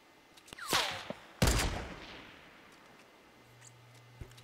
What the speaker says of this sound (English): I don't know where that sniper shot came from